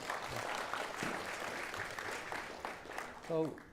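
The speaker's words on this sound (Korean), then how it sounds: "다시 한번 큰 박수 부탁드리겠습니다" An audience at a Bucheon sustainability council workshop opening ceremony gives steady, dense applause throughout, fairly soft and distant, with a short voice cutting in near the end.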